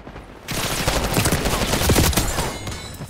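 Dense, continuous gunfire from Call of Duty Black Ops 6 erupts loudly after a brief quiet start, a sustained fusillade of rapid overlapping shots that holds steady to the end.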